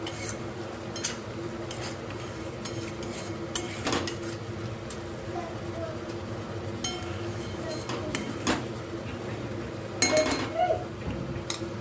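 Spoon stirring salt and Malvani masala with tomato in a cooking pan, producing scattered metallic clinks and scrapes against the vessel at close range, with faint background noise between strokes.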